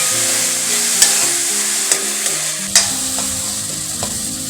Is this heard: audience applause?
no